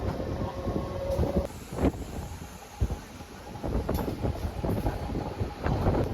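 A crowded MEMU train on the Bankura–Masagram line departs Gopinathpur station, heard from on board as a steady rolling rumble with wind buffeting and scattered knocks and clatter.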